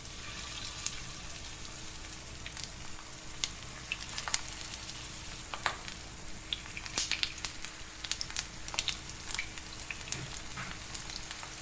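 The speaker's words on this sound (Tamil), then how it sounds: "இப்போ எண்ணெய் நல்லா சூடானதுமே நம்ம மேரினேட் பண்ணி வச்சுருக்கிற வெண்டைக்காயை ஒன்று ஒன்றா அதில் வச்சிடலாம்." Marinated okra pieces frying in hot oil for a crunchy Vendakkai 65, a steady soft sizzle with scattered crackles and pops, fairly quiet and close.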